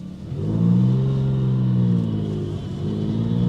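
A damaged, previously totaled Porsche 911 pulls away in first gear, its engine note rising and falling in a smooth, throaty rumble with audible harmonics, heard from inside the car with no talking.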